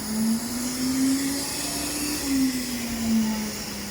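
A BIGM thread trimming machine runs with a steady motor whine and hum, the pitch gently rising and dipping in slow cycles over a constant airy hiss.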